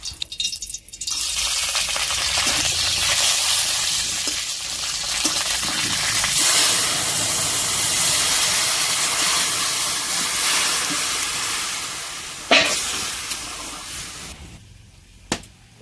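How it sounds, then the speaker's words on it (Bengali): Panch phoron spices and bay leaves hit hot oil in a wok with a loud, sustained sizzling hiss that runs almost unbroken for about fifteen seconds before briefly cutting out near the end. "কড়ার মধ্যে তেল দিয়ে দিচ্ছি পাঁচফোড়ন তেজপাতা গেরল পাতা ফোড়ন দিয়ে দিচ্ছি"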